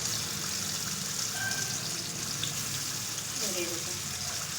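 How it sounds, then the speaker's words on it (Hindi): Chicken meat fries in a karahi for a Peshawari charsi karahi, a steady, dense sizzle with a constant hiss and occasional faint pops, close by and continuous. "मुर्गी का गोश्त को तकरीबन हम 15 से 20 मिनट अच्छी तरह से भून लेंगे"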